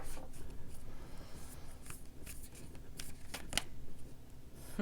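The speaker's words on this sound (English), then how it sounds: "One more shuffle." Tarot cards are shuffled steadily by hand, giving soft, continuous riffling and papery flutters close up, with no voices.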